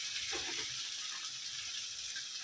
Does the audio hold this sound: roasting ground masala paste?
yes